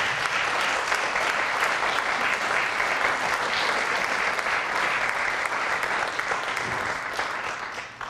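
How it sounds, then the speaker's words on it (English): A school auditorium audience applauds freshmen band students at a high school spring band concert, a steady full round of clapping that holds for several seconds and tapers slightly at the end. "give these freshmen a nice round of applause"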